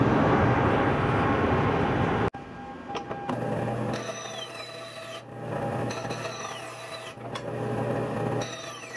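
Hand sawing through a rough plastic billet, a close, loud rasping stroke sound that cuts off abruptly, followed by quieter intermittent rubbing and scraping strokes.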